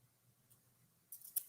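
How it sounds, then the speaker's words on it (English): A pair of scissors snips craft material, a few sharp close cuts packed into the final half second after near silence. "I'm going to trim it off a little."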